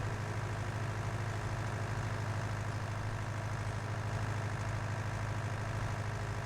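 A tractor engine idles steadily in Farming Simulator 2019, a constant low rumbling drone with no change in pitch, heard alone with no voices over it.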